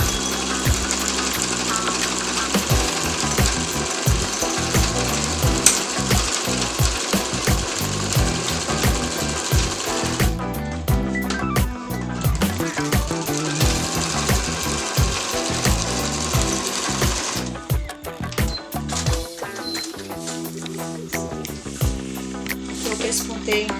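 Fabric clutch being topstitched all the way around on a sewing machine: rapid mechanical needle chatter runs in bursts separated by short pauses and shifts, fairly close and moderately loud.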